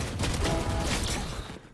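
Gunfire from a wall bang in the tactical shooter Valorant during a competitive esports match, a dense burst of loud sharp shots over busy game noise that fades out near the end.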